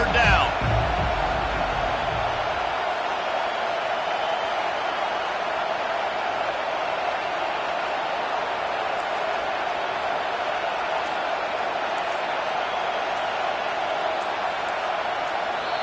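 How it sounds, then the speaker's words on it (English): A stadium crowd at a football game roars behind the defense on third down, a dense, steady wall of cheering and noise that stays loud for the whole stretch. "Decibels rising as the crowd gets behind this defense on 3rd down."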